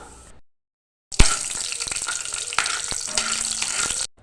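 Cinnamon, clove, cardamom and cumin hit hot oil in a pan for egg curry, a sudden loud sizzle after a short silence that crackles steadily close up.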